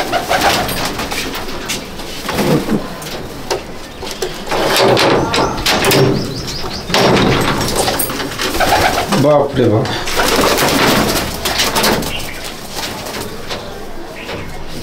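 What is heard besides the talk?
male pigeons cooing in a loft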